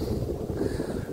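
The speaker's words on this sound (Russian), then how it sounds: "Ветер, только ветер." Wind blows across open ground at the edge of a rural village beside fields, a steady low rumbling buffet on the microphone without pause, close and moderately loud.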